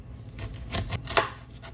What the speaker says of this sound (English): I'm still cutting my onions. So 1 large diced onion.